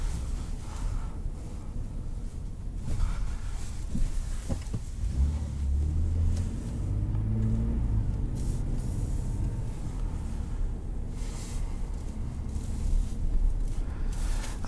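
A 2021 Ford F-150 STX cruises along with a low, steady road rumble and engine drone heard from inside the cab, with soft bumps and a brief rise in engine tone midway.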